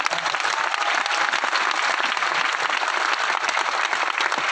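Dense, sustained applause from an audience at a business leadership event, with steady clapping at an even level through the whole clip and no speech over it.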